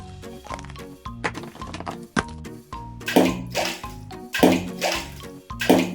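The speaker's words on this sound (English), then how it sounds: "Let me try throwing these pebbles into the water." Small pebbles are tossed one after another into water, a series of splashy plops and watery clatters mixed with cartoon music and effects.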